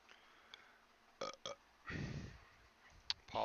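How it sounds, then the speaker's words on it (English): A single man's burp, a low rough eructation of about half a second heard close and fairly quiet, followed by faint sounds and a short breath or voice onset. "Apologize for the burp."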